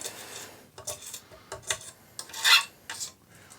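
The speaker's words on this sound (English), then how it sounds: "If I just grab a screwdriver, you can see I can actually move these around." A screwdriver pushes sliding nuts along a metal Eurorack rail, giving short, irregular metallic scrapes and rasps. The scrapes come in separate bursts with brief pauses, and the strongest one arrives near the end. No one speaks.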